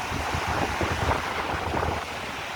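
Sea waves wash steadily at a beach on a high, rough sea, the surf rumbling in a continuous low wash with wind noise across the microphone.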